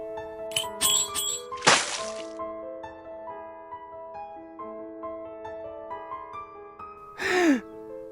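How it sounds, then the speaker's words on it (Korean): Choking, gasping breaths rasp out in two sharp bursts, an early harsh one and a later drawn-out gasp, set against quiet, eerie sustained music tones. "그 순간 아버지의 캑캑거리는 숨소리가 귓가에 선명하게 울려 퍼졌다."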